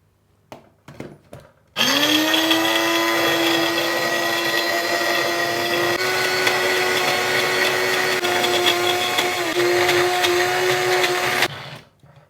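A blender whirs steadily for about ten seconds, blending basil pesto with walnuts, parmesan and olive oil. A few short knocks come first, then the motor starts up and holds a loud, constant whine before cutting off near the end.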